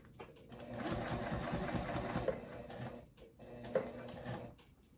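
A sewing machine stitches an X across a bag panel, running in a steady close mechanical whir with brief pauses between passes and a couple of faint clicks.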